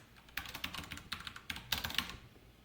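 Fingers type quickly on a computer keyboard close by, two short bursts of crisp key clicks separated by a brief pause, with no talking.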